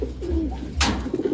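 A pigeon coos softly and repeatedly in a low, throaty warble, close by, with a brief rustle partway through.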